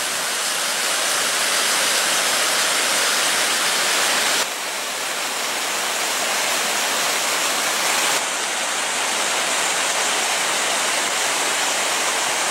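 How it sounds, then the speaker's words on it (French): Small woodland stream flowing on a quiet morning, a steady broadband rush of water close by that continues without a break, with no voices. "Je vais vous montrer un petit peu le ruisseau"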